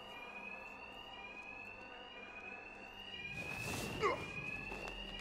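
A steady electronic alarm tone in the video game Batman: Arkham Knight rings continuously in the background, faint and even, with a brief burst of clatter and rising chirps near the end.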